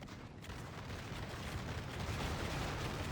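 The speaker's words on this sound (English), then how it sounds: "Oh wow, that just shattered from gunfire." Massed musket volleys and distant cannon fire from a Napoleonic street-fighting battle game roll on as a continuous dense rumble with crackling gunfire, loud and unbroken.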